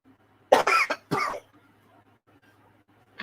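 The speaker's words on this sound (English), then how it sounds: "I do apologize for coughing on you guys." Two harsh, close coughs in quick succession from allergies, then a faint pause with low background hum and a brief onset of another cough at the end.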